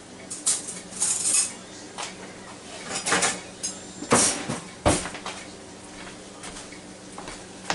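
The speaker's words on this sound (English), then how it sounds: "let me get a fork and knife and cut into each one of them" Fork and knife scrape and clink against a plate while cutting air-fried food, a series of sharp irregular taps and scrapes, close and fairly loud, with quieter handling between strikes and no talking.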